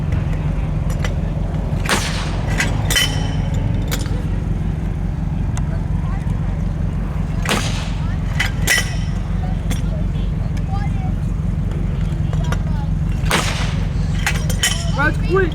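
WWII mortar firing during a living history encampment demonstration at an armor museum, with sharp broadband blasts recurring every few seconds over steady low outdoor rumble and people talking.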